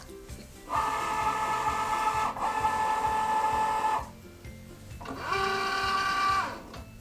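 A Cricut Joy cutting machine running in two bursts of steady whirring motor sound with a mechanical hum, separated by a short pause, close and fairly quiet.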